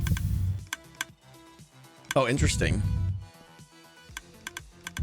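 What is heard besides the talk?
clicking from redstone heartbeat mechanism in Minecraft, a video game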